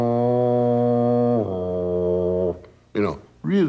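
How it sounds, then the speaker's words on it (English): A boat foghorn gives one long, deep, steady blast that drops slightly in pitch halfway through, then cuts off into a couple of short voiced sounds. "she gives a foghorn sound like"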